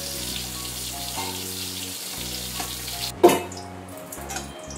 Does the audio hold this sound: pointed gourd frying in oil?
yes